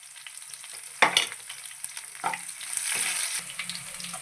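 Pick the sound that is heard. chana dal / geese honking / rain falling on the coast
chana dal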